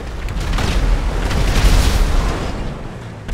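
Loud explosions from bombs strewn along a GTA car race track roll together into a sustained boom that swells and then eases, with no talking.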